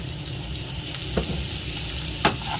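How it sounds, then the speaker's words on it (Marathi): Chopped onion sizzles steadily in a little oil in a pan, a constant crackling hiss with a few brief scraping stirs standing out near the end, close and moderately loud with no voices. "भाजत राहायचा कांदा. आणि आता थोडंसं किंचितभर ऑइल टाकलं"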